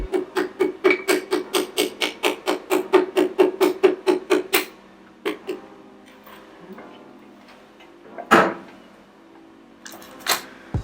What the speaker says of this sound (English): I'm going to use the end of my mallet, gently tap this in.